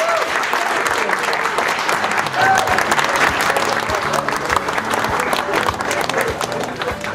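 A crowd at an anniversary celebration breaks into loud, sustained applause, a thick wash of many hands clapping with murmured voices and cheers mixed in throughout.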